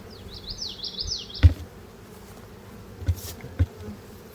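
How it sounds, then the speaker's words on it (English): A low, constant hum of many honey bees in a beekeeping yard buzzing close by, with a few soft knocks and brief higher whines over it. "I bought all these bees."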